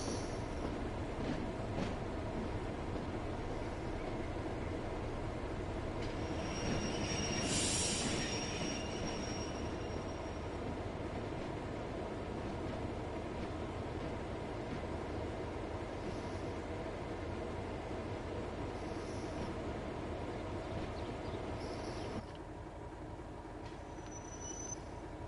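Freight wagons rolling along the rails in the Train Sim World 6 railway simulator, a steady continuous rumble with a brief squeal of wheels midway and no talking.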